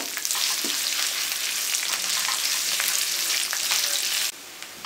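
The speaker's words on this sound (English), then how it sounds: "Add sliced onions and cook until they are translucent pink in color." Sliced onions frying in a pan give off a steady, close, loud sizzle with crackling pops throughout, easing off near the end.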